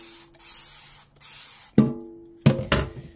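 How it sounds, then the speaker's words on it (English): Several short hissing bursts of Dawn Ultra Platinum Powerwash dish spray from a trigger bottle, with pauses between them and a louder pair of close sprays near the end, with no talking. "So we're going to spray it again and leave it a bit longer."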